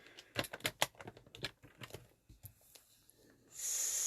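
Paper trimmer slicing cardstock on a craft table: a run of quick clicks and taps as the sheet is positioned, then a brief rasping swish of the blade near the end.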